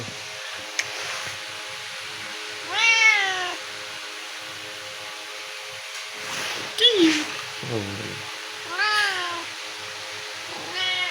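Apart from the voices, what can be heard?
cat meowing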